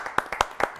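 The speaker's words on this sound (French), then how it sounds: "Applaudissements." A few sharp hand claps from a TV studio audience, about four separate slaps in under a second, close and fairly loud with no sustained applause.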